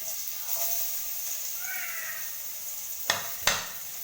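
Half an onion frying in a little oil for a bottle gourd leaf chutney, with a steady low sizzle throughout and two sharp utensil clinks near the end.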